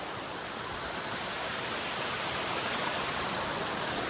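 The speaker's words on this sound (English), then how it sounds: "It's definitely cascading water." Water cascades over big boulders along a mountain trail, a steady, full rushing hiss that stays close and constant with no voices.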